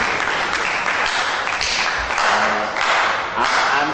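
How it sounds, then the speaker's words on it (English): A lecture hall audience of academic staff applauds the presenters of a grants sourcing and funds management lecture, giving a full, sustained round of many hands clapping at close range throughout. "Please, let's give our presenters another round of applause."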